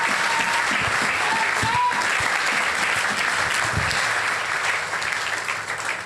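Church congregation at a Sunday service clapping loudly and steadily for the King of Kings, dense sustained applause with a few scattered cheers mixed in, tapering slightly at the end.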